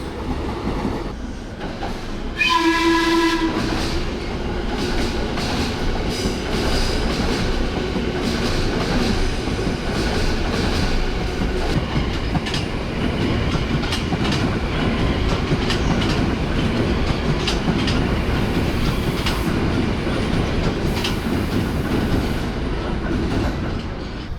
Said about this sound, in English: Now let's see if subway comes.